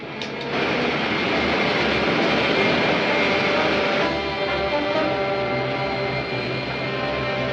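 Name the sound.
rocket ship main jets firing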